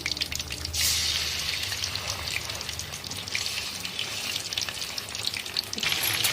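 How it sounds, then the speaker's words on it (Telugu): Chicken liver frying in hot oil in a kadai, a continuous moderate sizzle and hiss with wet spattering, fairly close and alone without talk. "ఇప్పుడు కోడి లివర్ వేస్తున్నాను ఫ్రెండ్ చూడండి"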